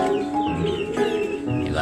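Racing pigeons in a loft, a brief, close burst of cooing and fluttery bird calls over light background noise.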